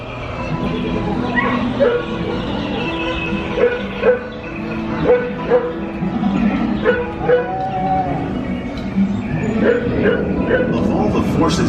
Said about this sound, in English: That dog's still barking.